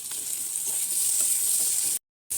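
Garlic paste hits hot oil in a pan and sizzles in a steady, loud, bright hiss with faint stirring scrapes, ending with a brief break before the frying resumes.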